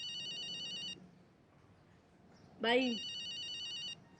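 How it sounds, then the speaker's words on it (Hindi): A telephone rings in a home with two bursts of stacked electronic ringing tones separated by a short gap, close and fairly loud, with a single spoken word in between. "फोन बज रहा है।"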